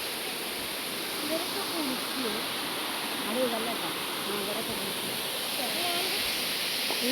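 Kalarandi waterfall near Kondotty, running low on water, produces a steady, even rush of flowing water throughout, with a person talking over it.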